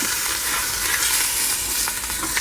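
Beef short ribs searing in hot, lightly smoking oil in a Ninja Foodi stainless steel bowl, producing a loud, dense, continuous sizzle with crackles and brief stirring sounds, close up; no voices.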